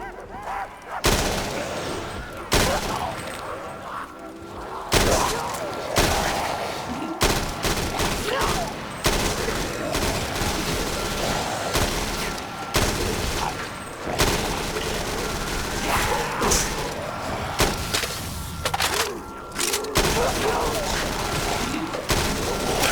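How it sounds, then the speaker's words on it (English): Zombies-mode video game firefight with the Explosive Eggnog perk: rapid gunfire bursts, each bullet impact setting off a small explosion, loud and dense for the whole stretch with only brief gaps. "It simply causes an explosion for every bullet damage impact that you do to zombies"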